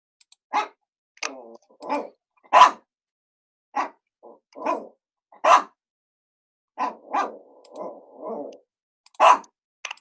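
A small dog of about 11 pounds gives a series of sharp, separate barks and yips, some close together and others spaced out, loud and near with silence between.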